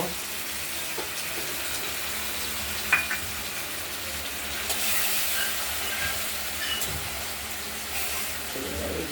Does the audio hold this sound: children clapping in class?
no